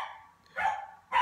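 Pet dogs give two short, sharp barks about half a second apart, fairly close and without talk.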